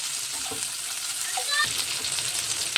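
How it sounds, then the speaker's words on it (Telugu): Onion pieces frying in oil for okra masala, a steady broadband sizzle throughout with a few brief stirring clinks and scrapes, no voices. "ఇందులోనే మళ్ళీ కొద్దిగా ఆయిల్ వేసుకుందాము. మసాలా ఫ్రై కానికి ఉల్లిపాయ ముక్కలు వేసుకుందాము."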